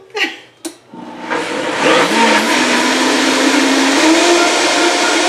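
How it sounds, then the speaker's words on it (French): A blender whirs steadily as it mixes protein crêpe batter, starting with a couple of short bursts before settling into a loud, continuous motor drone. "on le met dans le blender jusqu'à ce qu'on ait une belle consistance"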